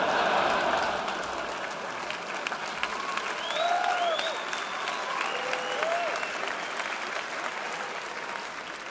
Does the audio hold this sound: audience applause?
yes